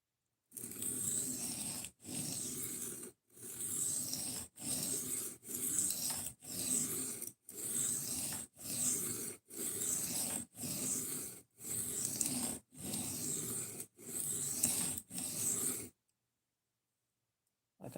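Rhythmic strokes of a knife blade across a 600 grit sharpening stone, a steady series of about fourteen gritty rasping passes with brief pauses between them, close and fairly loud, then silence at the end.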